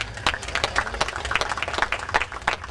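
An audience applauds the Bulgarian folk trio Feniks from Cherven Bryag at a Golden Orpheus award event. The clapping is dense and steady and fills the whole stretch at an even level, with no voices over it.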